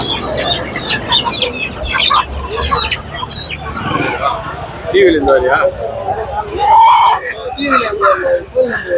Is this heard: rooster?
yes